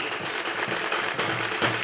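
Brief burst of audience applause welcoming Mahant Shri Viramnath Maharaj at the start of a yajna, a close, continuous patter of many clapping hands with no voices.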